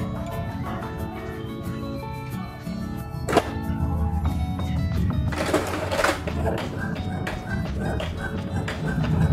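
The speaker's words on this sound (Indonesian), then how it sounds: "jadi printernya ini sudah bisa mencetak" An Epson L210 inkjet printer runs a test page, with mechanical whirring, rhythmic carriage clicks and a sharp thunk partway through, fairly close and continuous.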